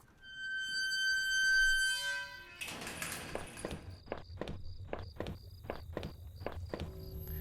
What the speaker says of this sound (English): The footsteps that are following you that don't follow you if you go backwards.